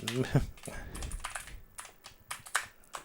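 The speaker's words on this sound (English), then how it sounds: "Boy, I can type." Someone types on a computer keyboard, producing irregular close clicking keystrokes mixed with speech.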